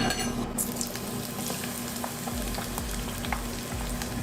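Aromatics sauté in a Lazada multicooker, a steady dense sizzle of frying with occasional scraping stirs and soft clicks of the utensil against the pot, close and continuous.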